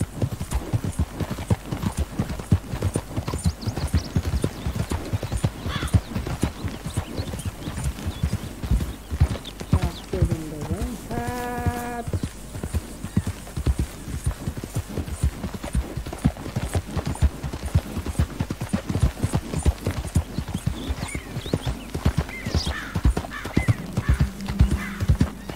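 Horse hooves clip-clop steadily throughout a long stretch of Red Dead Redemption 2 gameplay, with a clear neigh or whinny partway through, close and fairly loud with occasional talk in the background.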